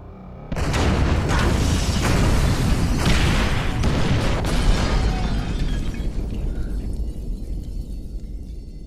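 A sudden loud explosion from a remote detonation in GTA V bursts in, followed by a long rumbling roar and debris noise that slowly fades away.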